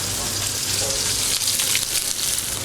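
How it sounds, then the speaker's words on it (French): Close, crackling sizzle of blood sausage frying in a pan, steady and fairly loud, with a few brief spatters. "pour commencer, on va poêler le boudin."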